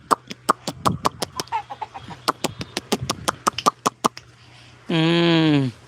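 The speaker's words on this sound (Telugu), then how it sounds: "ఇగో కోడి ఈడే ఉంది మాది ఇక్కడ కోడి ఉంది" A chicken clucks in a quick, uneven string of sharp calls, followed by a longer drawn-out squawk near the end.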